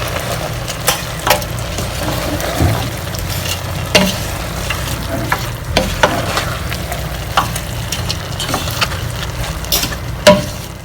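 Cooked mutton and its broth are stirred into rice in a pot for a Saudi-style mandi, with soft scraping and clinking strokes over a steady low bubbling.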